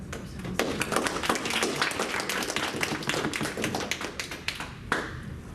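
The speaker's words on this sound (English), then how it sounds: "One more round of applause" A conference audience applauds after a security talk, a dense, sustained clatter of many hands heard from within the crowd, fading briefly near the end and then swelling again.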